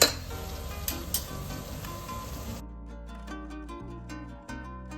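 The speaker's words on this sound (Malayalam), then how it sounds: "എന്നിട്ട് സിനമനും ആഡ് ചെയ്തിട്ട് ചോപ്ഡ് ഓണിയൻസ് ആഡ് ചെയ്തിട്ട് നല്ലോണം ഫ്രൈ ചെയ്യാം" Chopped onions fry in coconut oil with bay leaf, clove and cinnamon, a steady hissing sizzle that is loud at first, then drops back under music.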